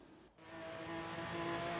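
An Audi RS5 in the Forza Horizon 3 video game pulls away after a brief gap and accelerates, its engine tone rising and swelling louder with a hint of tire noise.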